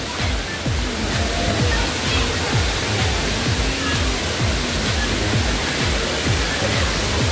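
Daranak Falls in Tanay, Rizal pours in a steady, dense roar of falling water, loud and constant. Faint voices blend into the wash.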